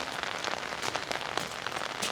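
Rain falls on a flooded, muddy mini farm, a dense, steady patter of drops striking surfaces nearby with scattered sharper splats throughout.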